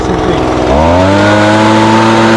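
A petrol blower running steadily and loudly up close, clearing debris from the open deck of a Husqvarna Z254F zero-turn mower, the engine note rising in pitch after a moment and then holding high.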